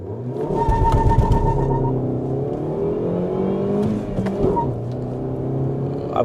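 A CNG car accelerates hard from standstill to 100 km/h, its engine droning loudly and climbing in pitch through the gears, with brief dips at each shift and steady road roar throughout.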